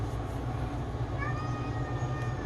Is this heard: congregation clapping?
no